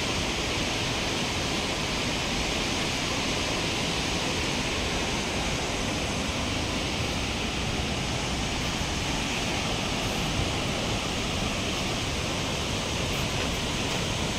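Waterfall on a trekking route in the Kugati Bharmour mountains, a dense, steady broadband roar of falling water filling the whole stretch without pause, close and loud, no voices.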